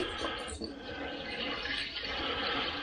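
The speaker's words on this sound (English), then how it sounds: "I'm going to tip this down the sink." Liquid from a car washer-jet clearing job is poured down a sink, a steady close watery gush running the whole time without a break.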